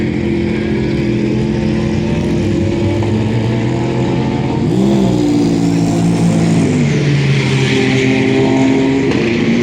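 Race car engines idle and rev at a Ferrari charity event. A close, throaty rumble holds steady, then shifts pitch midway as revs climb and settle.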